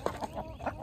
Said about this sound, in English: the ducks are still going crazy